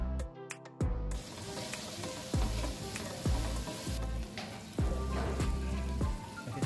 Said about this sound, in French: je fais d'abord suer des oignons ou des échalotes avec de l'ail